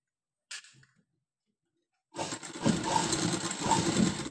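A sewing machine runs a stitch over folded fabric, starting after a short knock and silence, then a steady close whirring hum with a rhythmic clatter.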